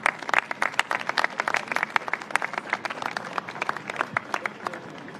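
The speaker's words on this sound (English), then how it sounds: "Another round of applause." Crowd applause for speakers at a New York City press event about a World Cup final watch party, a burst of distinct close claps over a thinner background of clapping that stays steady, then thins slightly toward the end.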